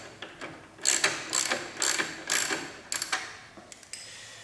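A wrench ratchets while loosening bolts on the rear shock of a 2008–2014 Honda CBR1000RR, giving about six sharp, close bursts of clicking in a steady back-and-forth rhythm, with no talking.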